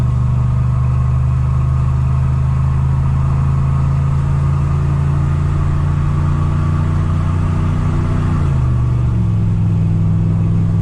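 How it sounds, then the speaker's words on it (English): A 2000 Ram 1500 pickup's engine at about three-quarter throttle climbs a slight grade, a loud steady low drone heard from inside the cab, its pitch dropping briefly near the end as the load changes. "Let me give it a little bit more throttle. We're about 3/4 throttle right now. Going up a slight grade."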